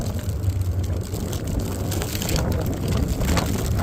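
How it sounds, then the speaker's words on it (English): Cold northerly wind blusters steadily across open winter ground beside thick ice, a constant loud rushing roar with gusty buffeting on the microphone and no voices. "Wind's blowing almost straight from the north, maybe a little bit from the northeast"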